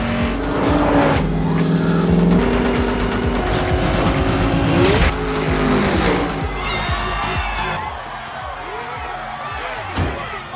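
Race cars roaring through a street race at Race Wars, engines loud and close with a tire screech and sharp slam-like hits, layered with dramatic music.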